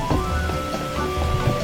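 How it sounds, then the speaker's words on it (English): Steady rain patters across a Team Fortress 2 map, a continuous wet hiss with scattered droplet ticks and a faint low rumble, heard alone without any voices. "The beautiful, nice, warm rain."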